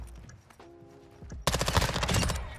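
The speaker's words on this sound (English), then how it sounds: "It's an assault rifle." Assault rifle fire in the game Roblox: after some brief mechanical clicks and a tonal blip, a sudden rapid burst of automatic shots rattles loudly until the end.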